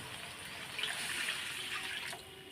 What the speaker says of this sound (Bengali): এখন আমি জল দিয়ে দেবো দিয়ে দিলাম আর একটু দেবো জল